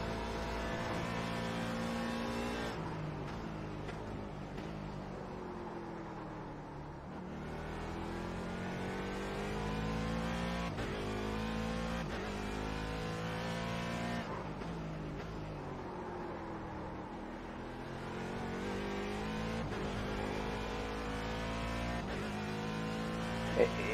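Race car engine holding a steady, continuous drone with shifting harmonic pitch as it laps Daytona in the iRacing simulator, loud and constant throughout, with occasional gear changes and a faint talking voice underneath.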